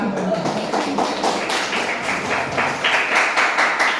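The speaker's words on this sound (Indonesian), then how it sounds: "dan sekali lagi tepuk tangan kita semua" A school class applauding at the end of a lesson, a short burst of brisk, fairly close clapping with a soft voice underneath.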